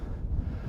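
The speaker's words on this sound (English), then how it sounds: "It is extremely windy." Strong wind buffets a microphone at the top of Pendle Hill, a steady low rumbling roar with gusty swells, continuous and close throughout the short stretch with no voices.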